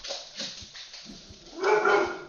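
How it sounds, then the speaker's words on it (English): Dogs nearby give a few faint, scattered yips and whimpers, then break into a louder, drawn-out whine near the end, with no one talking over them. "Sorry about my dogs there."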